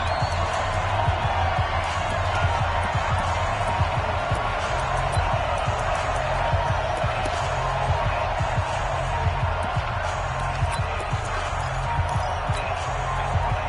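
A stadium crowd roars steadily in an American football video game as a big third down approaches, a dense, continuous wash of cheering noise with no breaks.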